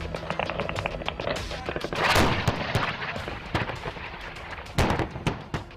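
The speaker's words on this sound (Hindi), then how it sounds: "चारों तरफ गोलियों की आवाज से थर्राता माहौल" Gunfire during an Indian army military exercise near the Pakistan border, with sharp rapid cracks and bursts of shots, some heavier booming blasts, scattered and echoing at a distance.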